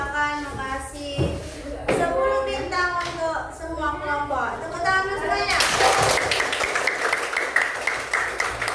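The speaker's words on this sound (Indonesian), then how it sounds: "Tepuk tangan dulu semuanya." A classroom of students claps together in a loud, dense round of applause that lasts several seconds, following a stretch of children's voices.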